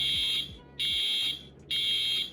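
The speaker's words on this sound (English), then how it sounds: "In private servers, you can set off the fire alarm in any building." In the Roblox game Greenville, a building fire alarm sounds in repeated loud, piercing electronic blasts, three bursts with short gaps between them, with no voices.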